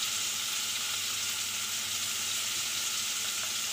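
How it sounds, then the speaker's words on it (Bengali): Paneer pieces frying in a kadai with black pepper and salt give a steady, fairly quiet sizzle that holds evenly throughout, with no speech. "এবার ওই কড়ার মধ্যে দিয়ে দিচ্ছি এই যে পনিরগুলো"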